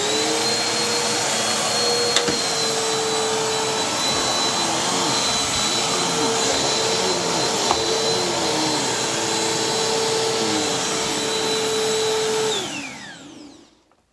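A vacuum cleaner drones steadily at close range with a high whine, then powers down and fades out at the end.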